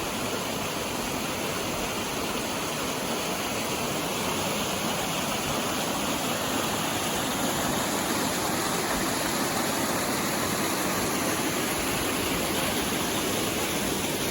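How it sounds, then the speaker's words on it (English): Steady, broadband rushing of a waterfall, constant and even throughout with no voices, a dense wash of falling water. "Let's look at one of the waterfalls that's up above the house."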